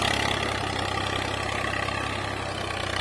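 An IMT 533 tractor pulling a nine-tine cultivator in a field, its diesel engine running loud and steady with a continuous rumbling throb and no pauses.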